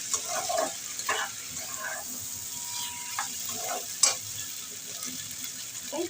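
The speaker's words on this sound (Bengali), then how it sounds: "পকোড়াগুলো দিয়ে এবার সমস্ত কিছু একসঙ্গে নাড়িয়ে চালিয়ে নিচ্ছি" Chilli chicken pakoras being stirred together in sauce in a pan: steady sizzling and frying throughout, with scraping spatula strokes and clinks, no speech.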